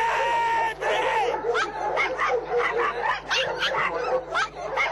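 Yorkshire terrier police drug-detection dogs bark and yip rapidly and continuously close by, excited high-pitched barks filling the whole stretch over a steady background hum.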